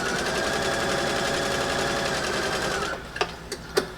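A sewing machine stitching a cuff onto a stocking runs loud and close in a fast, even whir for about three seconds, then stops, followed by a few brief clicks.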